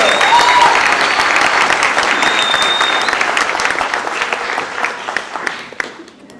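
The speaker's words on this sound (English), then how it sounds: "let's everybody give a nice round of applause, Ms. Escalante." Audience applause at a 2023 high school graduation ceremony, a dense, loud burst of many hands clapping that holds steady and then thins out toward the end, with a few scattered whistles.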